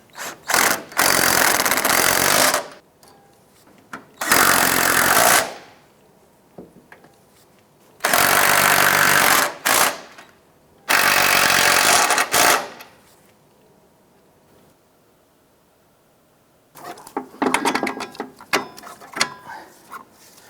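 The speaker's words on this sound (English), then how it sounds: "We're going to go ahead and use a 14mm socket to remove these four nuts holding the strut." Power tool with a 14mm socket spinning off the strut nuts on a 2001-2007 Ford Escape: four loud bursts of whirring, each lasting a couple of seconds and separated by quiet gaps, then softer clinking and ratcheting toward the end.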